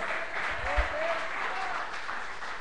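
Church congregation applauding during a worship service, a steady wash of clapping hands at moderate distance with a faint voice rising over it.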